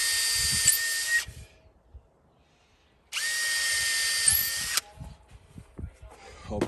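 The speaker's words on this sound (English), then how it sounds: "I'll pre-drill" Power drill pre-drilling a hole in exterior window trim on a mobile home: two loud, sustained high-pitched drilling bursts of about a second each, separated by quiet with faint handling knocks.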